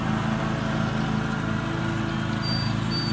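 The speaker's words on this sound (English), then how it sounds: "they got out their lawnmower and started mowing" A lawn mower runs steadily nearby during an outdoor plein air oil painting session, its engine drone continuous and fairly loud throughout with no pauses.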